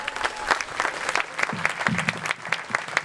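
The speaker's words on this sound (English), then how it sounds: "let's give them all a round of applause too" Audience applause at Redding's 2021 State of the City gathering in Umbrella Alley, a dense, steady patter of many hands clapping at close range for about three seconds, with a few voices briefly rising over it midway.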